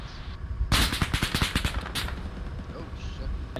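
Gunfire rings out in a tactical realism multiplayer shooter: a loud, close burst of rapid automatic shots that lasts about a second and a half. It then fades into quieter ambience with faint distant noises.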